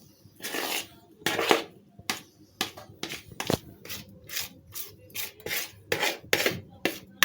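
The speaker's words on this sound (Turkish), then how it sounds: "Sonra kaşıkla düzelteceğiz üstünü" A spoon smoothing a cream topping over a cheesecake, heard as a series of short scraping and rubbing strokes with small gaps between them, close by and fairly quiet.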